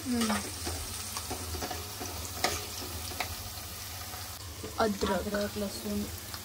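Whole garam masala roasting in a pan for Agri-Koli style mutton, a steady sizzling crackle with occasional stirring scrapes and clinks, close and moderately loud, with no talk.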